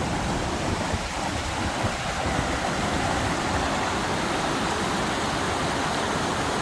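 Steady, full roar of Tat Ton Waterfall in Chaiyaphum, Thailand, heard from the top of the falls, a continuous broadband rush of falling water close by with no pauses.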